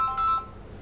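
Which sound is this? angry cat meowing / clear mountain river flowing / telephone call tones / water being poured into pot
telephone call tones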